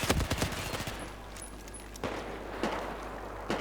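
Rapid automatic gunfire from the video game Battlefield 4, a dense burst of shots at the start followed by a few scattered single reports over background game noise.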